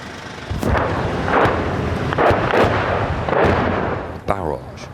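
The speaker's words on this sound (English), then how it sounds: "A barrage of incoming shells land close by." A barrage of incoming artillery shells landing nearby during a Donbas counteroffensive in Ukraine in 2023: loud, repeated booming blasts with rolling rumble between impacts, ending in a sharp, close crack, and voices faintly under the noise.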